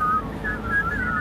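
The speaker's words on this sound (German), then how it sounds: "Und darum pfeifen wir jetzt eins miteinander." A mixed choir whistles a song together, a wavering group melody of sustained tones with slight pitch drift across the voices.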